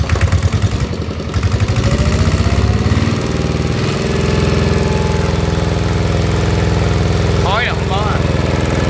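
A Kubota E55 mini excavator's diesel engine idles loudly and steadily with a throbbing, knocking rumble close by, while someone talks over it.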